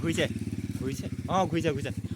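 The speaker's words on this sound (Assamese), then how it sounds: "বাইকখন ঘূৰিছে" A motorcycle engine putters in a rapid, regular rhythm close by as the bike turns around, while people talk over it.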